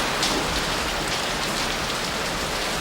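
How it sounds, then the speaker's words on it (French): Heavy monsoon rain pours down in a dense, continuous hiss of drops, loud and even throughout with no voices. "Les pluies de la mousson détruisent tout sur leur passage."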